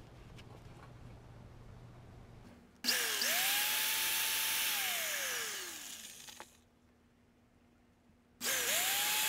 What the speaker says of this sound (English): Now I'm just going to drill this guy out.